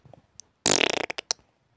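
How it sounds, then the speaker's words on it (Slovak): A fart in a Shrek parody sketch: a loud, sputtering burst lasting about half a second, followed by a few short trailing pops, close and alone after a faint quick tap. "proste som si prdol a prdnem si"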